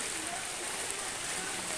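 Steady heavy rain pours down during a flood in Martapura, beside a road where the water stands knee-deep, making a continuous dense hiss that fills the whole moment without a break.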